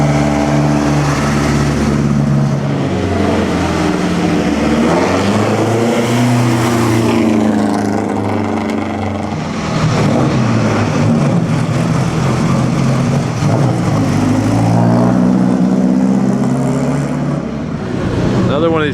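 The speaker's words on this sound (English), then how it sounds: "Another one of these 4-cylinder loud Ferraris." A loud 4-cylinder Ferrari at the Mille Miglia road race revs and runs close by, its engine note rising and falling throughout, with faint voices in the background.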